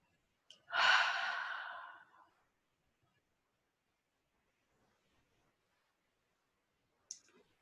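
A long, slow exhalation through the mouth during gentle yoga breathing, one soft breathy rush lasting about a second and a half, followed by near silence and a faint click.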